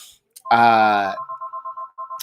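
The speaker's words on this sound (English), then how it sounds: "My phone is going off" A phone rings close by, a loud chiming tone burst followed by a quick run of short repeating beeps, with a brief blip at the start and the end.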